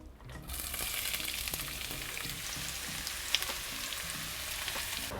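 Red onions go into hot oil in a pan on a Camp Chef outdoor cooker, bursting into a sudden, steady hissing sizzle that stays even and close, with a single faint click midway.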